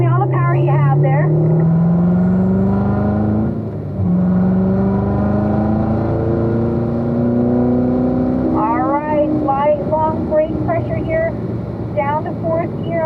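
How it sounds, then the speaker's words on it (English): Car engine accelerating hard on a track, pulling up through the gears to fifth, a loud rising drone with gear-change dips, under an instructor's continuous talk. "All the way up to 5th gear. Give me all the power you have there."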